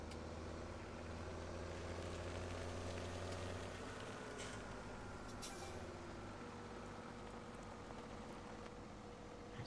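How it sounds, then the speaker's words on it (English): A tractor engine in a farming video game, American Outback map, runs steadily throughout with a constant low rumble and broadband noise, alone without talk. "Let's move the tractor out of the way."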